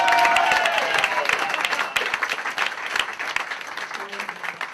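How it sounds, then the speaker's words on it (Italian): A large audience applauds loudly and steadily at a live show, with dense clapping and crowd noise all the way through and no clear voices. "give a massive round of applause for Joe Knight!"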